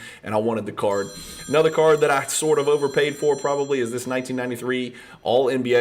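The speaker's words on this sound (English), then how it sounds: "Sorry about the phone. I forgot to put it on silent" A phone rings with high, steady repeating tones at a moderate level, running under continuous male speech about basketball trading cards.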